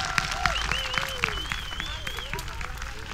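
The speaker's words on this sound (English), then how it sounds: "give them a big clap" Crowd applause at an outdoor gathering, steady clapping mixed with talk and high whoops or whistling voices rising and falling over it.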